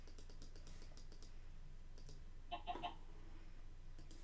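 Keyboard typing and mouse clicks during a Minecraft survival game, a quiet steady patter of keystrokes with a short burst of louder clicks near the middle, no talking.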